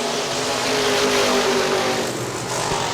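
IMCA modified race cars roar around the Hartford Speedway Park oval in Hartford, Michigan, a dense, loud wall of engine noise that holds steady with a slight rising whine.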